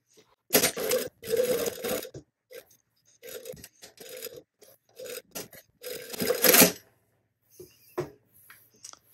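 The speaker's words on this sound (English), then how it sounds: "We want to sew past that, and then we're going to sew across at that point" A home sewing machine stitches across the end of a shirt placket in several short, irregular bursts of raspy whirring, separated by brief pauses.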